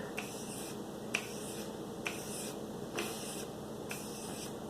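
Hook knife being honed on a 3000 grit sharpening stone: steady soft rasping strokes with sharp clicking ticks roughly once a second, close and fairly quiet, no talking.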